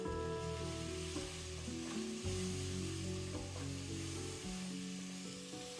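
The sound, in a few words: coriander powder and garam masala stirred, sizzling in pan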